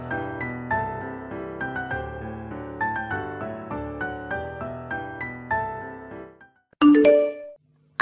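A notification bell rings a bright ding-dong chime near the end, loud and brief, right after a light plucked melody in even repeated notes.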